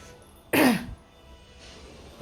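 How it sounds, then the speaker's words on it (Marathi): A single short, harsh cough from an older woman whose cough has worsened bursts out close by, then quiet background noise follows. "त्यांना खोकल्याचा आवाज वाढला"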